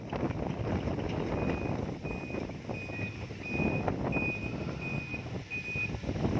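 Earthmoving vehicle reversing while levelling soil, its back-up alarm repeating steady evenly spaced beeps over loud engine rumble and strong wind noise, moderately close.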